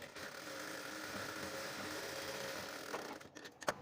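A sewing machine stitches a blouse lining in a steady, quiet mechanical whir for about three seconds, then stops with a few light clicks and a handling knock.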